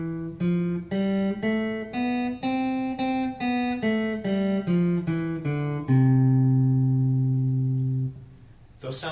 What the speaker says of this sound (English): if I play different major scales, they're all going to have that sound